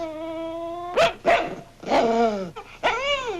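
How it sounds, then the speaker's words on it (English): A dog named as Daisy's breed unstated growls and barks at visiting strangers indoors, a run of close, strained vocal bursts with whining tones, loud and alone without talk. "She never growls at any of our friends."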